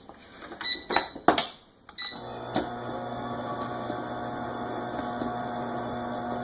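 Stand mixer restarting on pie crust dough with big chunks of butter, a few clunks and knocks, then a steady motor hum and whir running alone.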